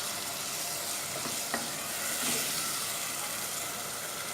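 Chicken liver and gizzard frying in a pan, giving a steady close sizzle with a few brief clinks of stirring, even and continuous throughout.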